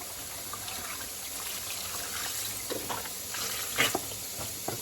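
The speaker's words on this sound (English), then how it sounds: "This right here is a 32 ounce of chicken broth. This is going in." Liquid trickles and splashes softly as a 32-ounce carton of chicken broth is poured into a cooking pot for Jamaican curry turkey wings, a faint continuous wash with a few brighter splashes near the end.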